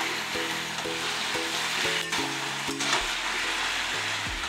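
Mixed vegetables with pumpkin stems and slit green chillies fry in a pan for a Bengali panchmishali torkari, giving a steady close sizzle that sits under loud background music.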